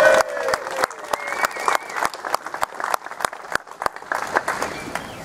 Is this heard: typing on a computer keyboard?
no